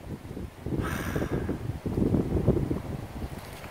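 Wind blowing along a ginkgo-lined mountain trail in autumn as leaves fall, a steady rustling gust close to the microphone with some buffeting, heard alone without talk.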